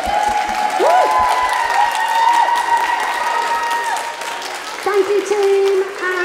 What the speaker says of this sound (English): Let's give our teachers a round of applause, come on.